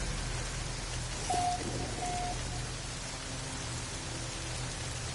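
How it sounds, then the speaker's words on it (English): Steady rain falls across an alien planet in the game No Man's Sky, a constant even hiss of drops on the ground with a brief tonal chirp partway through and no one talking. "And it had to be raining."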